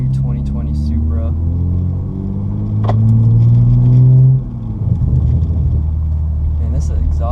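Tuned 2020 Toyota GR Supra, 416 horsepower, with a loud exhaust drone that climbs steadily in pitch as the car accelerates, then drops sharply after a shift; someone speaks over the engine.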